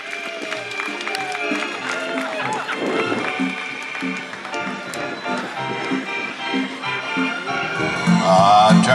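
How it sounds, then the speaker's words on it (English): Audience applause at a horse show, steady clapping at moderate distance mixed with crowd noise and some chatter, rising toward the end. "Give Lorraine Rosbury a nice round of applause on Popcorn Sutton."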